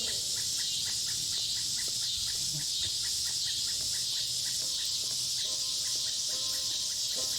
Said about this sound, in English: Cicadas and nocturnal birds sing.